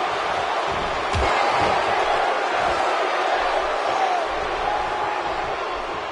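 Dense, steady arena crowd roar from a WWE 2K17 wrestling match, loud and continuous throughout with a brief thump near the start and faint commentary voices underneath.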